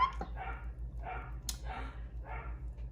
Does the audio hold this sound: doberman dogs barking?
yes